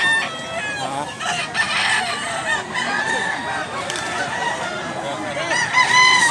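Several fighting roosters crow repeatedly at close range, overlapping one another amid steady clucking and farmyard noise, in Mantalungon, Cebu.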